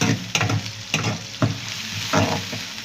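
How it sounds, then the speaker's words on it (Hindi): Onions frying in a karahi for restaurant-style chicken karahi, a steady close sizzle of hot oil broken by periodic scraping strokes of the spoon about every half second, with no voices. "प्याज को गोल्डन कर लेते हैं"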